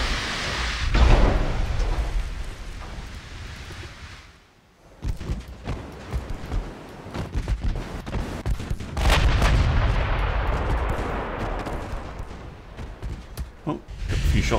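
Naval gunfire from battleships in the WW2 game Ultimate Admiral Dreadnoughts, with heavy booming salvos and rumbling blasts under steady battle noise, loud and close.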